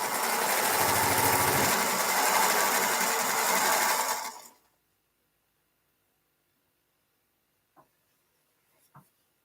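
Sewing machine named Maybelline stitching steadily and loudly for about four seconds before stopping, followed by near silence and two faint clicks.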